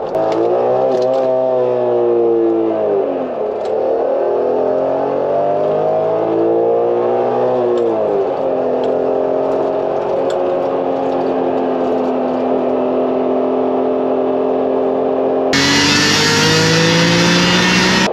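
A BMW M3, about twenty years old, accelerates hard up a highway on-ramp, its engine note climbing through the gears in steady revving sweeps for roughly fifteen seconds before settling into a higher sustained drone.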